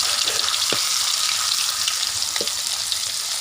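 Pounded spices fry in a little oil for stir-fried frog curry with holy basil, a steady, dense, close sizzle broken by a few sharp pops, with no voices.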